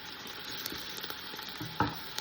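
Pork shank browning in a Ninja multicooker, a quiet steady sizzle close by with a few faint clicks and one louder knock near the end, no talking.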